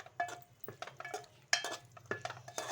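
A spoon stirring bhindi (okra) with yogurt in a pan, a series of close scraping and clinking strokes in an irregular rhythm, fairly faint against a quiet kitchen background.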